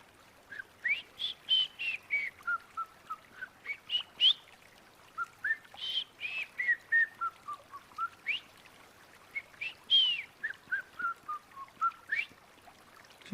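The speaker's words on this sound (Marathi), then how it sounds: "एक श्यामा नावाचा पक्षी गात होता." A white-rumped shama sings in a dawn forest, its clear whistled phrases rising and falling in repeated bursts, fairly close and alone against a quiet background.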